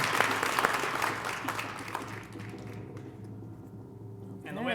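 Audience applause at a leadership breakfast, a room full of clapping hands that swells at first and slowly thins out, with voices murmuring through it near the end.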